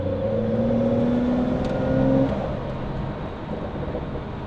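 A Porsche 992 Carrera S exhaust in sport mode rumbles and burbles close by, holding a steady throaty note before easing back to a lower idle burble.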